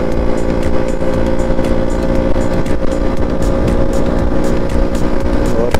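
A motorcycle cruising at over 90 km/h on a highway between Rajasthan and Madhya Pradesh, its engine a loud steady drone mixed with rushing wind throughout.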